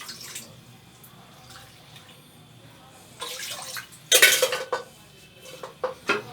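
Water is poured into a metal karahi in a kitchen while cooking chicken karahi, short splashy bursts mixed with clinks of the pan and utensils, against a quiet background.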